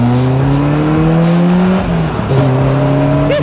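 A Caterham Seven sports car on an open road, its engine droning at a steady rising pitch, then dipping briefly as a gear is changed before pulling hard again, loud and close with no talk.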